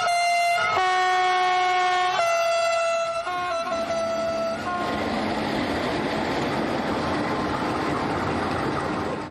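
A train arrives at Menge Bibe station near midnight, its horn sounding in several long tonal blasts before giving way to a loud, steady rumble of rolling wagons.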